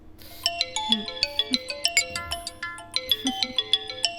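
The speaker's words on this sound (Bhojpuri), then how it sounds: "गलती से मोबाइलवा ऑने रह गई रहे। मम्मी के फोन बा" A bright electronic phone ringtone plays a quick repeating melody of chiming notes, fairly close and clear.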